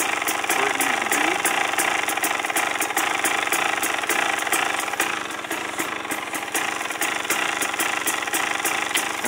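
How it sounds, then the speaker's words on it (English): A motorcycle engine idles with the choke on, running loud and steady in a rough, rapid pulsing rhythm as it starts to load up, with no one talking. "You can hear the bike loading up now. That's telling me that I need to take the choke off."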